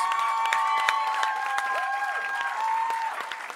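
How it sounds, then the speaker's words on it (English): A crowd at a live music performance claps along and cheers, steady handclaps mixed with whoops and high whistled or sung tones, all fairly loud and continuous. "I want you guys to start clapping right now"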